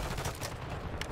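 Rapid bursts of gunfire in a first-person shooter game, clustered shots up close, fairly quiet overall with a dense, continuous rattle.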